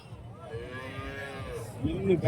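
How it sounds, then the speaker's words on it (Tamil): A cow at a livestock market moos once in a long, low, drawn-out call, with another bovine sound starting at the end and faint market murmur behind. "இதெல்லாம் கொஞ்சம் வயசான மாடு தான்"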